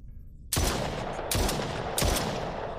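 Three loud gunshots are fired at a wall in a video game, each a sharp, booming crack at a steady interval, following a short quiet moment.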